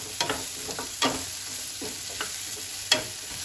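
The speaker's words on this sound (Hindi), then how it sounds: "1 मिनट तक इसे हम इस तरीके से चलाते रहेंगे ताकि ये सब्जियाँ जो है हमारी अच्छे से फ्राई हो जाए" Vegetables with baby corn are stir-fried in a pan with a soft steady sizzle, broken by occasional scraping and clanking of the spatula, close by with no speech.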